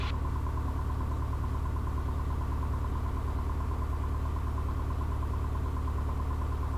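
A light aircraft engine runs at a steady idle while warming up after preheating, a constant droning hum with no change in pitch or loudness throughout.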